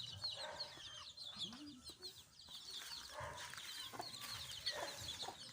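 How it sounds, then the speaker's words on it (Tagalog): Backyard chickens cluck softly and intermittently at a distance, with scattered faint bird chirps and low background noise, quiet overall. "maraming manok sa amin."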